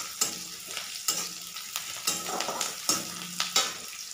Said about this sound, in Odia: ପିଆଜ ମୁଁ ଏଠି ଲାଇଟ୍ ବ୍ରାଉନ୍ ହେଲା ପର୍ଯ୍ୟନ୍ତ ଭାଜିବି।